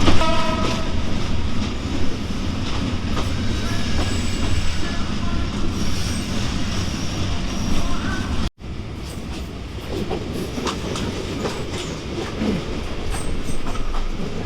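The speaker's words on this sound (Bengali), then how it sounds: "সারাটা দিন আমাদের এই ট্রেন দুর্বার গতিতে ছুটে চলবে" The Kurigram Express, a passenger train bound for Dhaka, runs loudly and steadily on the rails, with a dense rumble, wheel clatter and squeal heard from inside, and a brief break partway through.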